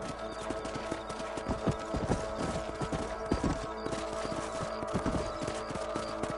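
Horse hooves clip-clop steadily through a ride across a ranch in the video game Red Dead Redemption, a continuous trotting rhythm over a dense game soundscape, with an occasional whinny.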